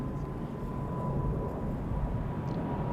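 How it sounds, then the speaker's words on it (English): A Transavia Boeing 737-800 jet arriving at Schiphol Airport gives a steady, broad engine roar with a faint whine, constant and moderately distant throughout. "Next up, the Transavia arriving from Valencia, 737-800"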